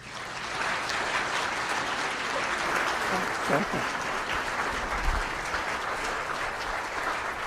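An audience greets a speaker at a monthly historical society program with steady, sustained applause that fills the room for several seconds, with a few voices mixed in.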